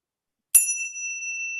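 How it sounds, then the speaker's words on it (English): A single bell struck at a pageant's question segment, one bright sudden ding whose clear high tone rings out and sustains, alone in near silence. "is the bell going to ring anytime soon?"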